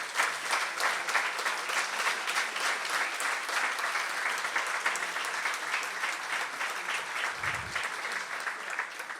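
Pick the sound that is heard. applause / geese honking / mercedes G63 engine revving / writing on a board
applause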